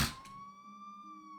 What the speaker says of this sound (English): In the distance, we heard police sirens echoing through the streets.